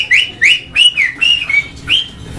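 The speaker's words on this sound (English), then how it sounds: "my wife hates whistling" Loud, sharp whistle blasts from a person, a string of short rising and falling notes repeated in quick bursts with brief gaps, close and unaccompanied.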